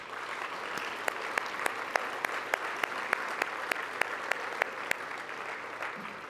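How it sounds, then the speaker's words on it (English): A banquet audience at an agri-business awards dinner claps continuously, a broad, steady round of applause filling the room with a few sharper individual claps standing out near the front. "Please join me in giving SAIF, KeyBank, and all of our sponsors one more giant round of applause."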